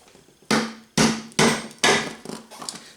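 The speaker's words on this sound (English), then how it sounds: "Tap a screwdriver in there and see if that splits them." Four sharp, loud taps of a screwdriver driven in to split apart parts during a 1961 Cushman Truckster EV conversion, evenly spaced about half a second apart, each ringing briefly, followed by softer rattling.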